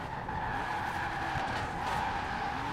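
A car in a GTA-style video game skids hard under braking, a continuous high tire squeal riding over engine noise for the full few seconds, close and steady.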